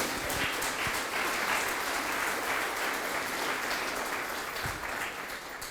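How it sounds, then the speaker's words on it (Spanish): A church congregation applauds in praise during a Spanish-language sermon, a dense, steady wash of many hands clapping close and loud throughout, with no talk over it. "Dale un aplauso al Señor."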